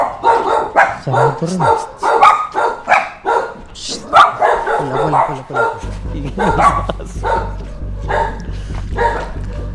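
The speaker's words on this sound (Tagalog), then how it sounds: "Yung mga aso." Several dogs bark in loud, repeated bursts close by, the barking mixed with people talking over it in Tagalog.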